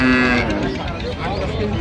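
Cows and calves at the Ambari cattle market in Dinajpur, dairy cows among them. A loud, close moo opens the moment, then gives way to dense market chatter and voices in the background.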